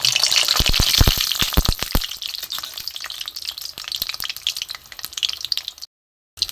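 Pitha batter fries in hot oil with a close, crackling sizzle, sharp bursts of spatter in the first two seconds settling into continuous bubbling, then a brief cut to silence.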